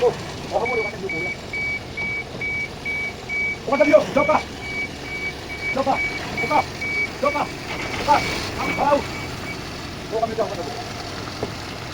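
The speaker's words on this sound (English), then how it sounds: "we also have also requested that lorry to bring some stones" A lorry reverses at a rural building site with a steady series of evenly spaced electronic beeps, heard over a low engine rumble while people talk intermittently nearby.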